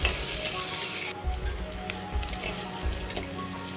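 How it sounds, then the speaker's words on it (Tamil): Onions and green chillies sauté in a pan for a dried-fish thokku. A loud, continuous crackling sizzle fills the whole stretch, with brief dips and faint stirring scrapes. "ஆனியன் கூடவே பச்சை மிளகாய் போட்டு நல்லா வந்து வதக்கி விட்டுக்கோங்க"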